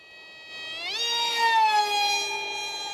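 Electric motor of an RC boat running a Brother Hobby 2-blade prop on a 3S battery, a steady high-pitched whine that rises sharply in pitch as it speeds up and then holds, fairly close.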